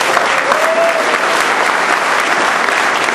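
Steady, full applause from an audience at a military retirement ceremony, dense continuous clapping throughout with no break.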